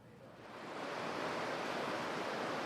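Gore Creek flowing past a covered bridge in Vail, a steady broadband rush of water that swells in over the first second and then holds loud and even, with no voices.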